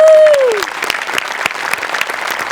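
An audience claps steadily and densely after a Marathi stage dance performance in peacock costume. The applause opens with a brief falling whistle-like tone and carries on loud and close throughout.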